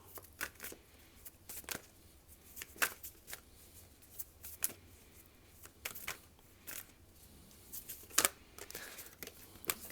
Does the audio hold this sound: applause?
no